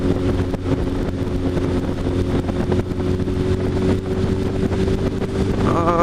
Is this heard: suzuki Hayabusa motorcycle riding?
yes